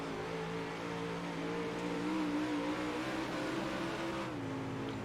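A UMP Modified race car on the dirt oval at Volusia Speedway Park in iRacing, its engine droning loud and steady with a sustained high rev as the throttle is held wide open, nothing else audible.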